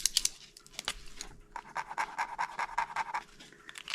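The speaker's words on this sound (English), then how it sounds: "weird sounds, it's my dog" Tiger, a pet dog, pants in quick, rhythmic huffs nearby, fairly faint and steady, with a few rustling sounds at the start and no talking.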